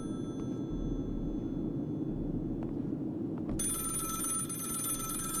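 A telephone rings in the analog horror game Vermis Malum, a bright electronic trill that cuts in partway through over a low droning ambience.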